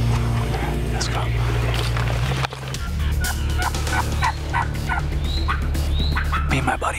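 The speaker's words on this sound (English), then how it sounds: "Came out here and just struck up two turkeys. They're gobbling good" Two wild turkeys gobbling in spring woodland near a field, several loud rattling gobbles answering each other amid outdoor ambience, with whispered talk nearby.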